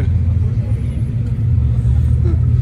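Ford Mustang with a 5-litre engine going by on a town square, a steady low rumble of engine and traffic that stays loud throughout with no sharp rise or fade.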